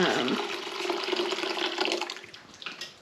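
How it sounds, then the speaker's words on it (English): Liquid coffee poured into a lidded pot on an unlit stove, a steady splashing, trickling flow close by that runs throughout and tapers slightly at the end. "I'm pouring the coffee into this pot."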